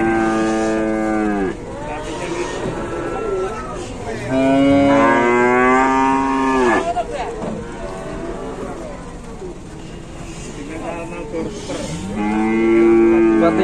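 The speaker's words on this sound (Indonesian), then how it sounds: "Astaga, itu ada sapi kok." A cow moos repeatedly during a rescue of a trapped, collapsed cow, long drawn-out bellowing calls close by, several in a row with brief pauses, loud and clear.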